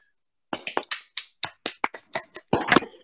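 A few people in an online audience clap in sparse, separate bursts of sharp, close hand claps, with a denser flurry near the end and no talking.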